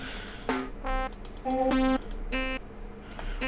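A baritone sax melody played back from music composition software: a handful of low, tonal synthesized notes in an uneven rhythm, moderately loud with a faint background hum.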